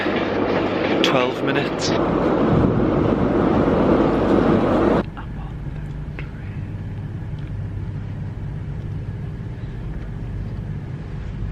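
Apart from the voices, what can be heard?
train station ambience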